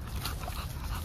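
A bully-breed dog whimpering at a feed store, faint whines close up over a loud, steady background noise.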